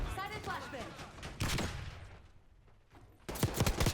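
Rapid bursts of gunfire from a Tanto fitted with a binary trigger in a video game, loud paired shots that start and stop in quick clusters while a voice talks over them.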